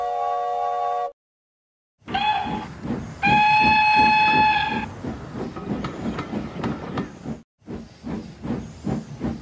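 A steam train runs along the railway with rhythmic chuffing and hissing steam, loud and close, broken by two sustained whistle blasts and brief gaps of silence.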